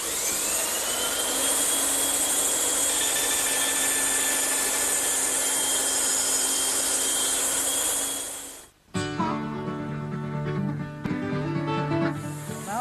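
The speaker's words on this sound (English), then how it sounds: "I've set up to cut the top and bottom edges of the tenon." A bandsaw cuts the top and bottom edges of a wooden tenon for a Mission-style sofa, a loud steady whine running for about nine seconds before it cuts off into quieter workshop noise.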